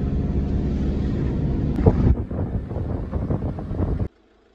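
Steady road rumble and wind roar inside a camper van driving toward Zurich in Switzerland, with some rattling and bumps midway before the noise cuts off abruptly.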